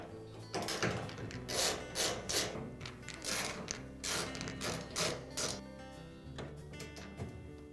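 Screws are backed out of the front bulkhead of an Amana dryer with a 5/16 driver, making faint repeated ratcheting and scraping bursts in an uneven rhythm, close by and without speech.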